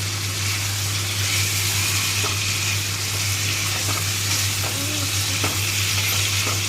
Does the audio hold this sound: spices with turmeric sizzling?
yes